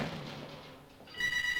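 A telephone bell starts ringing partway through, high and repeating, after a stretch of quiet room noise.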